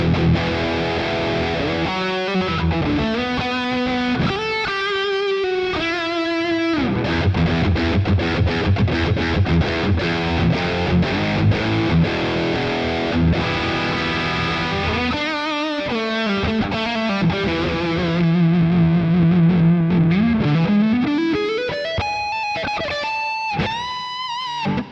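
High-gain distorted electric guitar lead through a Boss Katana Go headphone amp on its Modern preset, loud and continuous with fast melodic runs, sustained bends and chugging passages, played alone without talk.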